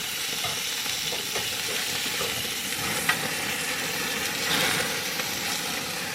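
Greasy bacon cheddar burgers fry on a grill at a truck campsite in the cedars, giving a steady, close sizzle with soft hiss and one brief scrape, with no talking.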